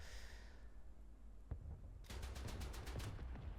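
Machine gun fire in the War Thunder video game, a single thump followed by a rapid rattling burst of shots over a quiet engine-like rumble, faint overall.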